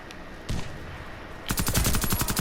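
Shotgun fire in the video game Warface: a couple of isolated blasts, then a rapid burst of repeated shots close and loud.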